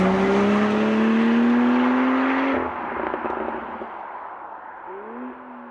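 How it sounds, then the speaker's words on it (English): A Morgan Supersport with a 335 bhp BMW 3-litre straight-six turbo revs hard and climbs through the gears, then lifts off with a crackling overrun as it pulls away, and the engine note rises again faintly as the car recedes. "The Supersport is powered by a 335 bhp version of BMW's notoriously strong 3-litre straight 6 turbo"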